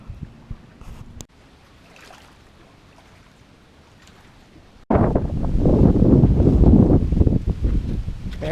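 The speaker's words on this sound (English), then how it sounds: "Ever-present wind." Wind at the west end of Buckeye Lake rumbles softly against the microphone, then turns into loud, constant buffeting that roars for the rest of the clip.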